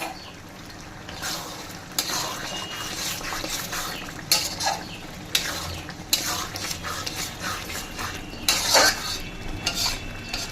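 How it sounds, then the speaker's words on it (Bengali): Cashew and melon-seed masala paste fries in a pan for chicken curry, a steady sizzle close by, broken by repeated scraping strokes and clinks of a stirring spoon against the metal. "এবার মশলাটা ভাজা হতে দেবো"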